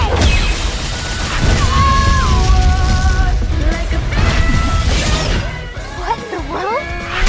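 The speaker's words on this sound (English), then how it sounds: "Did I just explode?" Booming crash of an explosion in an animated fight, a loud sustained burst of impacts and rumble that carries on for several seconds, with bright synthetic tones and effects layered over it.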